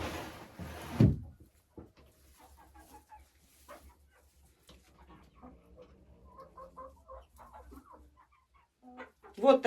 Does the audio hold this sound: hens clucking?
yes